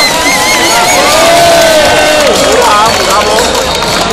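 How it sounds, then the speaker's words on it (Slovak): A big festival crowd at an outdoor wet T-shirt contest applauds and cheers, loud and steady throughout, with whoops and shouts rising over continuous clapping. "Zatleskajte ešte raz poriadne."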